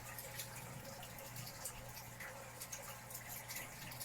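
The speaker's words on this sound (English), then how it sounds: "And we're draining right now. We've got the drain hose coming out, run over the sink." Freshwater aquarium water drains through a hose into a sink, a faint, steady trickle and rush that runs without a break and without voices.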